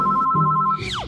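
A telephone rings with a steady electronic ringtone tone, loud and close, in a cartoon skincare scene before the call is answered; the ring cuts off near the end with a brief swooping sound.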